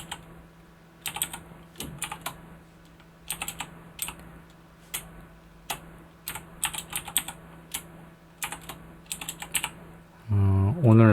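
A computer keyboard is typed on in quick irregular bursts of close, crisp key clicks separated by short pauses, with a brief voice at the very end.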